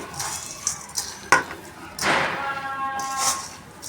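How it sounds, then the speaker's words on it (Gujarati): Spices, sesame, carom seeds and sugar are stirred into flour for fulvadi, giving soft scraping and rustling of mixing in a bowl with a few light taps, heard close and moderately loud. "લોટમાં બધો મસાલો મિક્સ કરવાનો છે"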